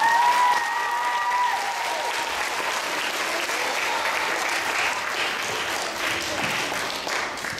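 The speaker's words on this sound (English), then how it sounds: "Mr. Warren Tucker, give him one round of applause." An audience applauds steadily for several seconds, a dense wash of many hands clapping that stays loud and even before easing slightly at the end.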